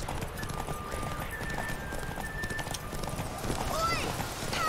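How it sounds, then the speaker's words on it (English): A horse gallops at full speed in The Witcher video game, steady rapid hoofbeats close and continuous, with faint tonal game sounds layered over the running. "Take your mount to her limits."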